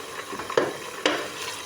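Meat frying in a pan while being stirred for haleem, a soft sizzle underneath with two sharp spoon-against-pan scrapes, close up and fairly quiet, no talking.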